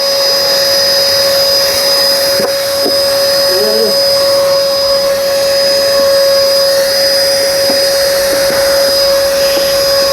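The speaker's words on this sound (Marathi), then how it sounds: "आज आम्ही आपल्यासाठी घेऊन आलो आहे व्हॅक्यूम क्लीनर. हे गाडी साफ करण्यासाठी वगैरे असा उपयोग होतो." A car vacuum cleaner runs in a loud, steady motor whine with a high constant tone, close to the microphone and unbroken for the whole stretch, with faint voices underneath.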